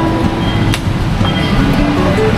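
Inside the MRT station at Shaw Boulevard in Manila, a metro train rumbles steadily and loudly, with a low mechanical drone, a brief higher squeal and a sharp clack over constant station noise.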